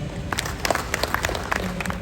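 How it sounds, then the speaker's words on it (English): Audience applause at a Toastmasters club installation ceremony, a steady patter of many hands clapping with sharper individual claps standing out, fairly close and moderately loud. "Round of applause"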